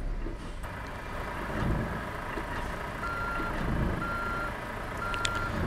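Reversing beeps from a truck in Euro Truck Simulator 2, three evenly spaced electronic tones over a steady engine and traffic rumble.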